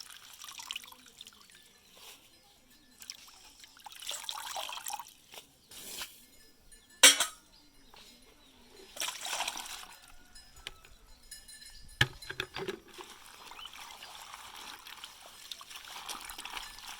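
Cassava leaves being washed by hand in water, with soft drips, trickles and occasional splashes and clinks of a container coming and going at close range, quiet and without talk.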